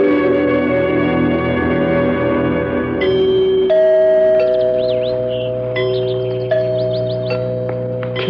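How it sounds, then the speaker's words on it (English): Bell chimes ring out as a radio drama sound effect, sustained tones layered over one another with new strikes entering partway through, loud and close and with no talking. "Did you hear the chimes?"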